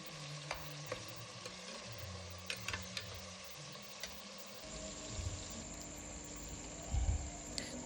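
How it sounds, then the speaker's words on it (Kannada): Tomatoes frying and being stirred in a pan for methi pulao, with a low steady sizzle and scattered scraping clicks of a spoon against the pan, growing slightly louder toward the end. "ನಂತರ ಇದಕ್ಕೆ ಟೊಮೊಟೊನ ಹಾಕಿ ಮೆತ್ತಗೆ ಬೇಯಿಸ್ಕೊಳ್ಳಿ."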